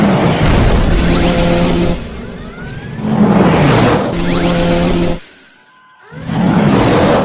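Sci-fi spaceship torpedoes fire and explode in a run of loud, rolling booms and rumbling blasts, with whooshing tones between the hits and a brief drop near the end.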